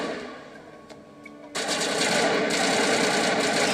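Gunfire in Mass Effect Legendary Edition, a faint rattle that suddenly bursts into loud, sustained rapid automatic fire, dense and continuous to the end.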